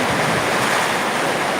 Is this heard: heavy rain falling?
yes